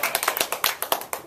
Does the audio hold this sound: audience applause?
yes